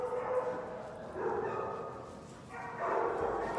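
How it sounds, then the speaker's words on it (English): A dog makes drawn-out whining, yowling sounds in a few uneven bursts, fairly close, with a muffled background, while being tested around a cat. "Hi, Tom, you like this doggy?"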